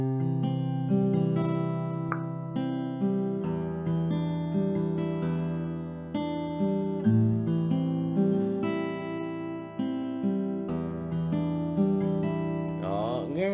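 A guitar strumming pattern for a Vietnamese song, played as steady, rhythmic chords with ringing strings throughout and no voices.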